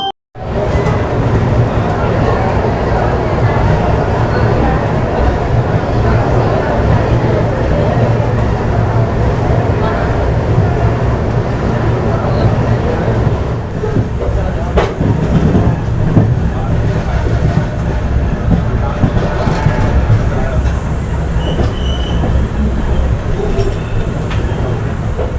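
A Tamil Nadu Express passenger train runs steadily and loudly on the rails, a constant rolling roar with rattling and clatter throughout, heard from on board.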